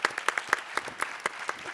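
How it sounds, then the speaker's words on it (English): Audience applause at a sports community event, a light scattering of distinct claps spaced out irregularly, fairly faint and thin, as if from a modest crowd. "Give him a round of applause."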